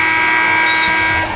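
A basketball arena buzzer sounding at the end of an NBA game, a loud sustained electronic tone held steadily for over a second above crowd noise.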